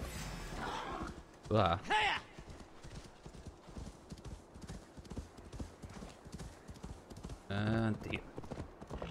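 Horse hooves clip-clop in steady rhythm in the Assassin's Creed video game, a close, moderately loud stream of hoofbeats, with two short bursts of a player's voice over it.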